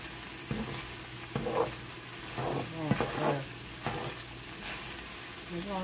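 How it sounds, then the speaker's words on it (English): A pork stir fry sizzles in a frying pan as it is stirred, with a few scraping and clattering strokes over a soft steady fry. "I'm gonna give this a stir"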